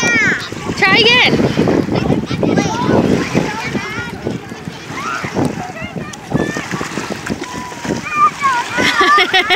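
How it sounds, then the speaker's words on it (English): At the edge of a lake, a child attempting a cartwheel tumbles into the water, setting off a run of close splashes and sloshing mixed with excited children's voices and talking. "I fell in the water and I'm wet now"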